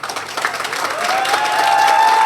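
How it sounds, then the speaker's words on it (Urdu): A seated audience at an institute talk claps together, the applause dense and steady and growing slightly louder. A faint tone runs through it. "تالی بجانا چھوڑ دیجیے."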